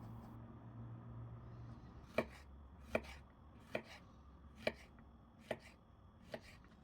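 Six crisp knife chops through zucchini on a cutting board, evenly spaced at a steady pace, close and clear against a quiet background.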